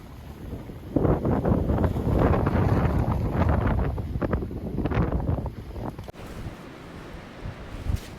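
Strong wind buffets the microphone at Silloth promenade in Cumbria on a rough sea at a big flood tide, loud roaring gusts that drop away after about six seconds to a quieter sea-and-air wash.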